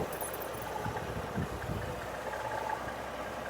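A Datsun 280ZX small engine idling with a deep, slightly throaty tone, heard as a steady low rumble at a moderate distance with no talk over it.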